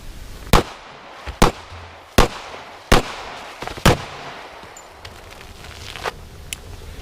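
Five sharp, loud .45 ACP shots from a Colt Mark IV Series 80 pistol fired at an uneven pace outdoors, each a crisp crack with a brief echo, followed by quieter ambient noise and a couple of faint distant pops.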